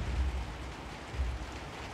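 Rain falls in the video game Little Nightmares 2, a steady soft hiss with low rumbling swells, alone and fairly quiet.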